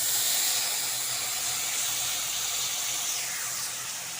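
Tamarind pulp goes into a hot pan with a five-spice tempering for a sour mourola fish dish, setting off a loud, continuous sizzling hiss that fades slightly near the end, with no talking.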